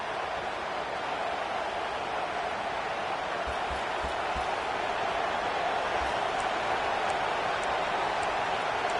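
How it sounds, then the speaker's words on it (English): Steady stadium crowd roar from a college football video game, Maryland Terrapins hosting UConn in a rivalry-week matchup, a dense continuous wash of noise throughout with no speech over it. "This crowd bringing the energy and noise early."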